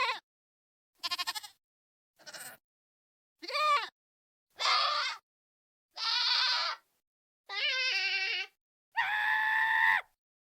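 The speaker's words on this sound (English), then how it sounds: "This is the sound of the baby screaming goat" A baby screaming goat from the Minecraft game gives eight short, loud cries separated by silences, each a shrill bleating scream, with the later ones longer and fuller.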